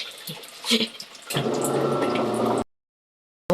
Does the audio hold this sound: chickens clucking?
no